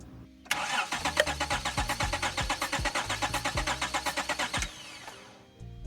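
A 2003 Honda Odyssey 3.5 V6 with almost 200,000 miles cranks on the starter for a compression test, a rapid even chugging of around twenty pulses over four seconds, close and without firing, then stopping.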